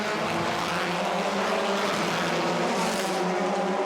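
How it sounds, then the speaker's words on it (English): TCR touring cars rev hard as a 2020 TCR Europe race starts at Zolder, a dense, loud multi-engine roar with rising pitch and no pauses throughout. "revs rise. And we're away."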